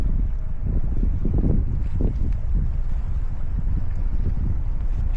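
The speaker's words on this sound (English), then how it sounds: "this wind's getting me" Wind gusting hard on the Mersey shore during a sea fishing session for rays and sole, a steady low roar buffeting the microphone with rising and falling gusts throughout, no other sounds standing out.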